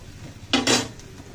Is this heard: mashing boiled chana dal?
yes